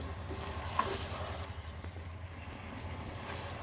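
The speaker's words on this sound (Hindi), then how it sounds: "चिकन की अब हम तेज़ आंच पे 5 से 6 मिनट तक भुनाई करेंगे।" Chicken pieces sear on high heat in a pan for a curry, a steady close sizzling hiss with a low background rumble and a faint clink early on, without any talking.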